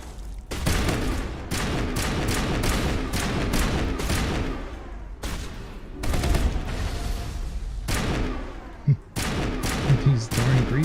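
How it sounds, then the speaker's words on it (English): Companion Rex blasts a shotgun in Mass Effect during a firefight with creepers, sharp repeated gunshots in irregular bursts, loud and near, with a few short gaps and sporadic other game noises. "Finally using the shotgun I told him to use."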